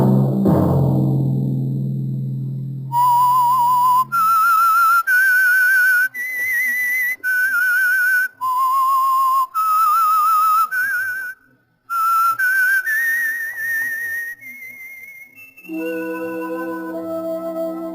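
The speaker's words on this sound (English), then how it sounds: "Let that whistle be your signal for the Whistler, each Sunday night at this same time." A lone human whistle plays the Whistler radio show's eerie theme melody, with sustained clear notes that rise and fall in a slow sequence. It follows a short burst of orchestral music and ends as the music returns.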